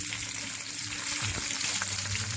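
Meat browns in a pan ahead of braising, giving a continuous close sizzle and crackle with a few brief bumps and shifts as pieces are turned, no voices over it.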